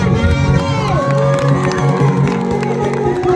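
An audience at a 2022 concert in Tuzsér cheers, whoops and applauds loudly and steadily from start to finish, with music still sounding underneath.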